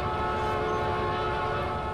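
A train horn sounds in the Trainz Railroad Simulator 2019 video game, one steady, sustained blast lasting the full two seconds with no talking.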